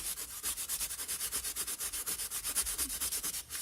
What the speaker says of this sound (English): scrub on this a bit more